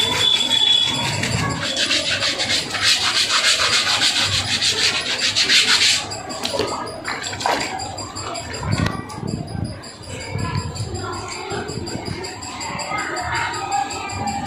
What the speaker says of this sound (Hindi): आहिस्ता आहिस्ता हाथ से रब करते हुए ऊपर की स्किन को क्लीन करना